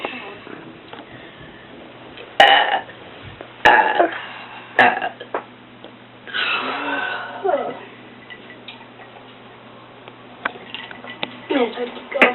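In a bedroom, a person lets out a series of irregular burps, some sharp and loud and others softer and drawn out, with a little talking between them.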